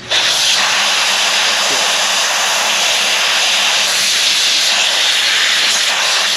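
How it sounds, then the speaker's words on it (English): A brake cleaner pressure washer sprays a Jeep YJ 4.0 Wrangler part, a loud, steady, close hiss of pressurized spray that runs without a break. "So we're gonna hit this with the brake clean pressure washer."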